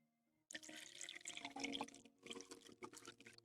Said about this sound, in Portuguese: Adicione um pouco de água destilada.